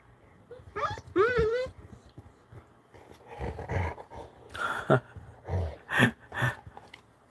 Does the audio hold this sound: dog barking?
yes